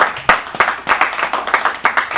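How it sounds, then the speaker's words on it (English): An audience at a library branch talk claps in a burst of several sharp, fairly loud rhythmic claps, close and distinct rather than a dense roar, with no speech over it. "I want you to give yourselves a round of applause"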